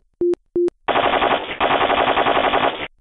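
Video game gunfire: two sharp single shots followed by a long, loud, continuous burst of machine-gun fire, close and alone with no talk.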